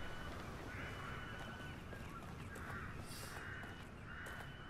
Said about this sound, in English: Look at the crows.